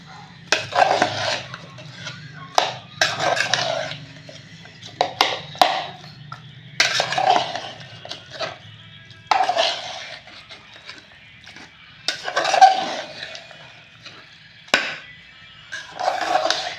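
A metal spoon scraping and clinking against a dish while food is mixed in a home kitchen, coming in irregular bursts of stirring with short pauses, close and fairly loud.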